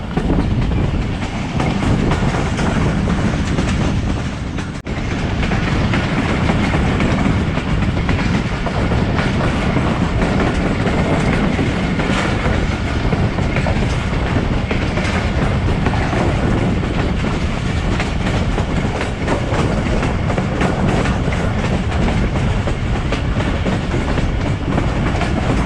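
Riding aboard the Pakistani 130DN Thal Express passenger train from Rawalpindi toward Multan on Main Line 2: a loud, constant rumble of wheels on rails with a rhythmic clickety-clack throughout.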